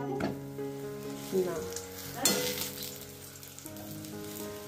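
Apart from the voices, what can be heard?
luchi frying in oil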